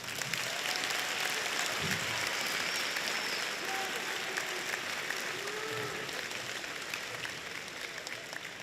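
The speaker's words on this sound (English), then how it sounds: "how about one more round of applause for all of our candidates?" Audience applause for the candidates after a state candidates debate at a university, a continuous wash of clapping held at an even, moderate level for several seconds.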